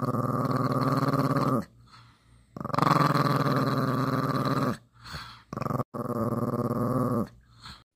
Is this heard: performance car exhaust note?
no